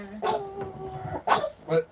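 Dog whimpering and yelping in short bursts close by, with a brief howl-like whine, mixed with people's voices nearby.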